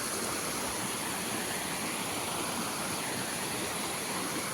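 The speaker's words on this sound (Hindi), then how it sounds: "ये पानी झरना पड़ रहा है, इसकी कल की आवाज़, झरने की आवाज़ आ रही है" A waterfall roars steadily as a dense, continuous rush of falling water, loud and unbroken with no voices over it.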